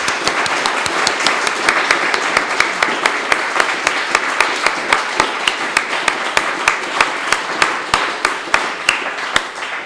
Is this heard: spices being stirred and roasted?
no